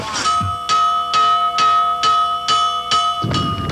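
A bell in a Nicaraguan village, San Bartolo, rings in a steady series of about seven loud, ringing strikes with long sustained tones, close by, with a little background noise and no talk.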